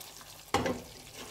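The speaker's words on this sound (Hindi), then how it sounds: "अब इसको हल्का हल्का सा हम भूनेंगे।" Kofta meatballs frying lightly in a pan over a medium stove, swirled by lifting the pan instead of stirring; a single close burst of sizzling rises suddenly, then settles into a soft hiss.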